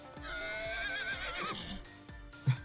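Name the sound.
horse neighing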